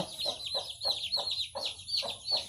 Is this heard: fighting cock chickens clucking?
yes